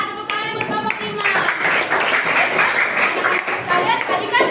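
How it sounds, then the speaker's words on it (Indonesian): Classroom students clapping for group 5, a short burst of applause mixed with chatter and voices speaking over it. "Tepuk tangan buat kelompok 5."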